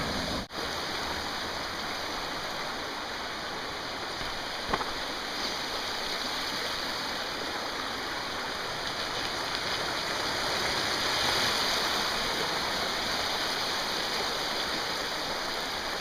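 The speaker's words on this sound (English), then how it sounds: "Got a lot of water coming right down the road, and it's really slippery." Water rushing down a mossy canyon road in a steady, loud, continuous wash, like a fast stream, with no talk over it.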